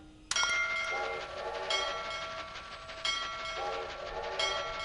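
Cartoon train in the Reading Blaster children's word game: a whistle-like horn blast opens over steady rolling rail clatter, with repeated horn-like tones and clicking wagon rhythm continuing fairly loud throughout, no talking.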